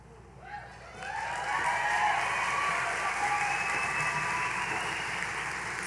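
Audience applause fills a commencement ceremony hall, starting after a brief pause and swelling into sustained, dense clapping from a large crowd that continues steadily to the end.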